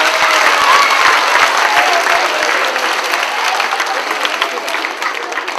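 A large audience claps loudly and steadily for Father Anand and his members at a community gathering. Dense, close applause holds for several seconds and then eases slightly toward the end.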